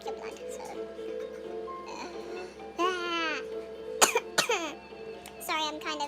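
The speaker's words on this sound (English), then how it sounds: "I probably will be coughing a lot in this video" A person with a cold coughs repeatedly, several sharp bursts scattered among throat noises and mumbled talk over a steady low hum.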